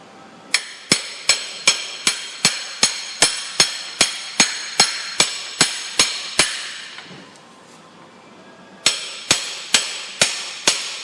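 A hammer drives a bushing into the case of a Ford Escape 6F35 transmission: about fifteen sharp, evenly spaced metallic strikes, a short pause, then another quick run of blows, close and loud.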